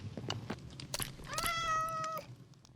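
Cat meowing in the video game Minecraft, a single clear drawn-out meow in the middle, preceded by soft clicks and scuffs of gameplay.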